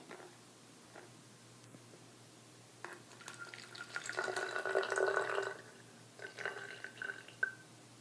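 Fifty milliliters of water trickles and splashes into a container in a quiet room, starting with a few drips, then a steady pour of several seconds, and ending in brief splashes.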